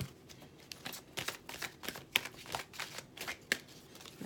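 A deck of chakra cards is shuffled by hand and one card is pulled, giving a quick run of soft papery riffles and flicks at close range, with no talking.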